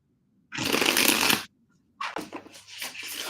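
A deck of tarot cards is shuffled up close: one dense, loud riffle lasting about a second, a short pause, then a second shuffle of quicker flutters and taps.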